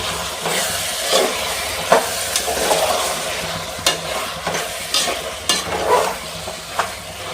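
Chicken pulao stirred in a cooking pot, with scraping spoon strokes at irregular intervals over a steady oily sizzle and hiss, close and fairly loud, no talking.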